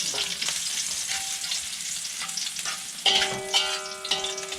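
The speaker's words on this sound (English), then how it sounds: "Added in the garlic. Added in the chili. Giving that a stir." Garlic and chili fry in a pan aboard a sailing boat, a steady sizzle with the scrape of a stirring spoon. A few ringing metallic tones sound in the second half.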